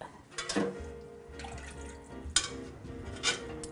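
Brandy is poured into a pot of onion soup, giving a few soft liquid splashes and drips at close range, quiet and brief, with no speech.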